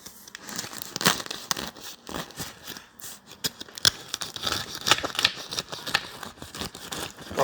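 A knife saws through a freshly baked cheese and tomato seed loaf, crisp crust crunching and crackling in a steady stream of close, rustling cuts.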